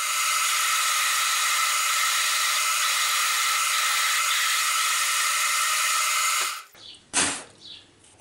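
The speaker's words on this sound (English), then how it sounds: "Drilling out this center hole went perfectly fine." A power drill runs steadily at close range while drilling out the center hole in a plate, a loud continuous whir lasting several seconds before it cuts off abruptly, followed by a couple of brief clunks.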